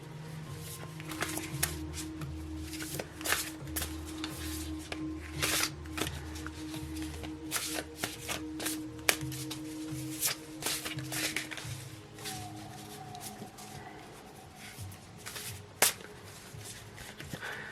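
Oracle cards are shuffled and handled close by, a long run of quick riffling flicks and soft slaps with scattered sharper taps, and no talking.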